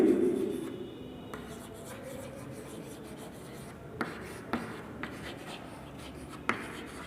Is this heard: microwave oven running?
no